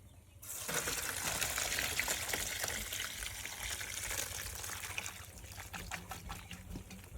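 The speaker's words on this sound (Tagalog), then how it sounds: "Salain lang po natin." Homemade tambis fruit soda strained into a container, a steady close trickle and splash of liquid that starts abruptly and runs continuously, thinning slightly toward the end.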